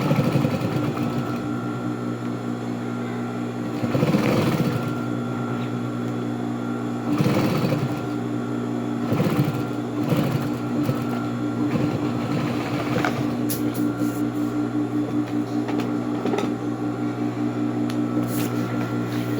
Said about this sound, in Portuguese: E vou passar uma costura aqui em cima